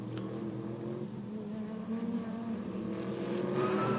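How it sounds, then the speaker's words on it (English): GT race cars in an ADAC GT Masters race at Zandvoort roar down the track, engines droning in layered tones with rising pitch, a steady loud pack sound that builds toward the end. "the cars blast their way down towards the Hans Ernst Curve for the first time"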